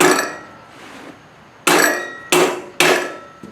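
Hammer taps driving an exhaust header collector into place on a merged exhaust for a Toyota 2110, three sharp, loud metallic knocks at even intervals after a quiet lead-in, with no talking.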